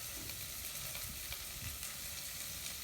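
Chopped onion frying in a hot little Dutch oven, a faint, even sizzle with soft crackle running steadily throughout.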